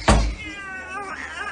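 A cat gives a single close, loud meow that opens with a sharp onset and trails into a drawn-out, wavering whine, with a quieter second vocal rise near the end.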